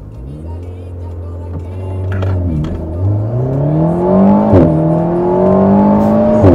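An Alpine A110 S sports car accelerates hard with ESP on and no launch control, its engine note climbing steadily through the gears, loud and close from inside the cabin.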